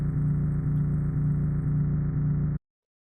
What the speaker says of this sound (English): The other engine sound effects are these.